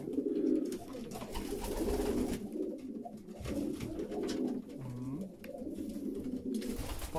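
Pigeons coo steadily in a breeder's loft, their low throaty calls repeating close by and continuing throughout, with a voice briefly heard in the background.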